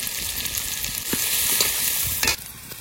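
Dried red chillies, cumin, sliced onion and green chillies frying in hot oil, a close, steady sizzle with a brief stirring scrape near the end and no voices.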